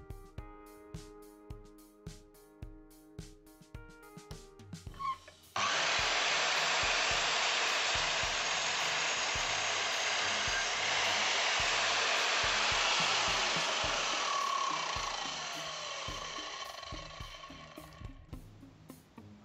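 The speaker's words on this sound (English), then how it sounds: "It's ready for cutting at 45 degrees to give me a 90 degree angle to go around the hole by the boiler." A wooden architrave is cut at a 45 degree angle: a loud, steady, hissing saw roar starts abruptly partway through, runs for about thirteen seconds and then stops, after quieter tonal sounds at the start.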